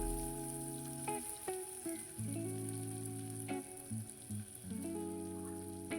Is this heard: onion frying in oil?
yes